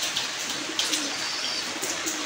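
Pigeons at a rooftop loft make soft cooing and fluttery bird calls over a steady hiss of background noise, fairly close and continuous for a couple of seconds, with no speech.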